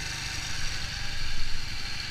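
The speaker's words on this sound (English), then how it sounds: "Also the engine is humming perfectly," A carburetted engine idles steadily at close range, a constant mid-pitched hum with slight rhythmic pulsing and no voices.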